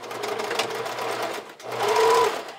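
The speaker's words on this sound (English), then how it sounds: "I'm stitching so that I'm anchoring down that left side of my band elastic" A sewing machine stitches band elastic onto a bra, running in two steady bursts separated by a brief pause, close and clear with no talking.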